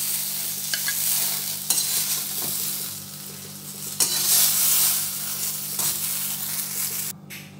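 Okra and potatoes fry in oil in a wok, giving a steady close sizzle broken by repeated scraping stirs of a spatula, with no talking.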